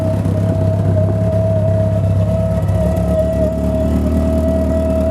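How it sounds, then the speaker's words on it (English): A steady mechanical whir from the oil pump hums continuously alongside a low idling engine rumble of a turbocharged Peugeot 306 GTI-6 with its exhaust removed, unchanging for several seconds with no talking. "the whirring noise that you can hear there is the oil pump"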